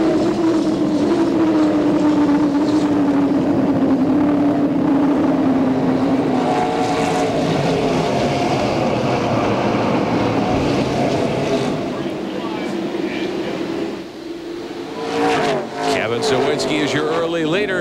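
ASA stock cars roar around Toledo Speedway at the start of a 300-lap race, a loud continuous engine drone that swells and fades as cars pass, with crowd and track noise beneath.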